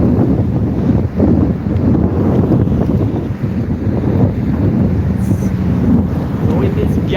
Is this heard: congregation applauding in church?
no